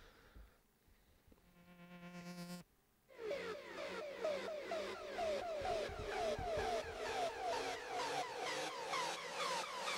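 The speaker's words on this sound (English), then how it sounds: "And these are tonal rises" Tonal rise effects for an electronic track: a short harmonic tone climbs in pitch for a couple of seconds, breaks off, then a long run of bright, repeating rising sweeps pulses steadily and loudly to the end.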